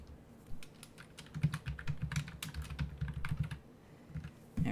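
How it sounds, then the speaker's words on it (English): Typing a name on a computer keyboard in a home music-production setup, a quick irregular run of close, crisp key clicks with brief pauses and a heavier keystroke at the end. "then I'm going to tab out and I'm going to type my name"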